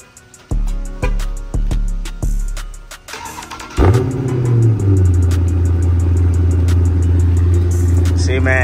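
A 2023 Dodge Charger Scat Pack on its stock exhaust blips its engine in four sharp, loud revs, then fires into a deep, steady idle rumble that holds close and loud to the end.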